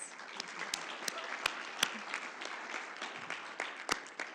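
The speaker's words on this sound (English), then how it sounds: "And can we give a round of applause for our candidates?" Applause from the audience at a youth-led school board candidate forum, a steady wash of clapping with a few sharper individual claps standing out, moderately distant and even throughout.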